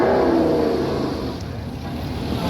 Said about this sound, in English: It's got that 6-cylinder Bristol engine in that you're seeing come past you on the hill at the moment.